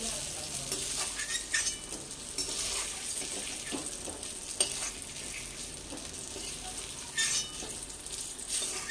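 Oil sizzles and crackles in a pan as fried eggplant pieces are stirred and lifted out, with occasional scrapes and clinks of a utensil.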